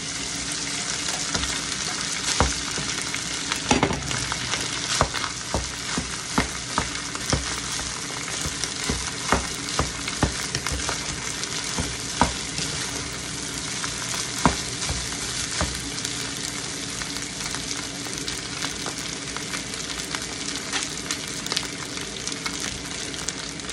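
Rice being stir-fried for sinangag alongside beef tapa, sizzling steadily in hot oil, with loud, continuous frying noise broken by frequent scraping and clattering of the spatula against the pan.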